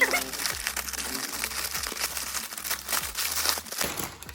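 Crinkly plastic and paper packaging around a Swatch watch is torn and crumpled open in close, repeated rustling bursts, with a voice talking now and then.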